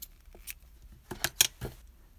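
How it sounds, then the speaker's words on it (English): Scissors snip through crochet yarn in a few quick, sharp cuts near the end, close and fairly quiet after a near-silent start. "so we're gonna cut the yarn."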